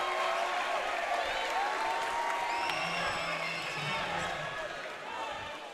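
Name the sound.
basketball game crowd cheering and applauding a point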